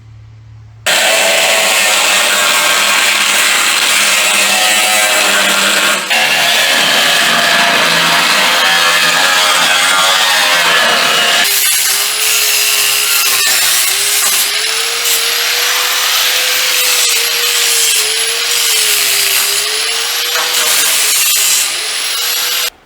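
A power tool grinds and cuts through a car's suspension mount during a Mustang II suspension install, a loud continuous whine with shifting pitch that runs for over twenty seconds.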